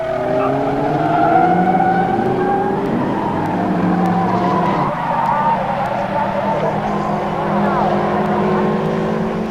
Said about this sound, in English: Only a few feet separate the two cars at the hairpin, but Pond outbrakes Culcheth and slips through to take the lead